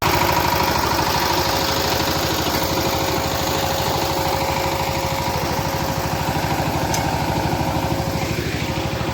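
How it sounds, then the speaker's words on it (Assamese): A tractor engine chugs in a rhythmic, steady throb as it comes along a village road, loud and close throughout with a faint tonal whine above. "এয়া ট্ৰেক্টৰ আহি আছে"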